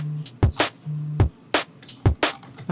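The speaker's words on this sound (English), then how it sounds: "That's a really nice hi-hat." A drum loop for a groovy drum and bass track plays back: crisp hi-hat hits and snappy snares over low thumping kicks, in a punchy, syncopated pattern with short gaps.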